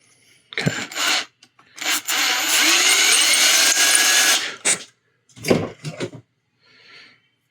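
Power drill boring holes in a plastic 1/60 NeoGrade Sazabi model kit, whirring in several close bursts: a short one, a long steady run of about three seconds, then two brief blips and a faint tail.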